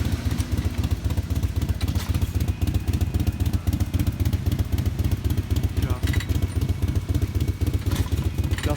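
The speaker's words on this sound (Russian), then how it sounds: "Ну, мотоциклы старые, винтажные, трудно запустить." A vintage Ural motorcycle with sidecar runs at a festival of vintage motorcycles, its engine chugging in a steady, rapid pulse, close and loud, with light mechanical clatter and no talking.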